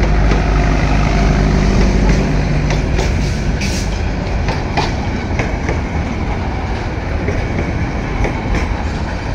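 A heavily crowded passenger train runs along the rails under a cloudy sky, with people riding on its roof. The rumble is loud and steady, with faint clickety-clack beats and no talk.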